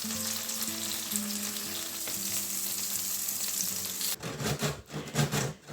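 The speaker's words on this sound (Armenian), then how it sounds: "Ու այսպես 2 կողմից տապակում ենք" Grated zucchini fries on both sides in a large pan, giving a strong steady sizzle up close that gives way near the end to bumpy, uneven scraping and stirring sounds. No one speaks.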